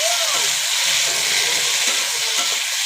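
Chili powder masala frying and sizzling in a pan, with a steady, loud hiss and crackle filling the whole stretch.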